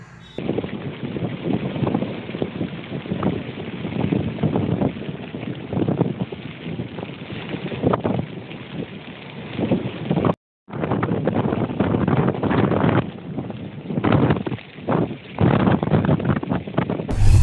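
Steady roaring wind buffets the microphone over a churning wash of rough surf, with surging swells rising and falling throughout, at the coast of Karaikal district.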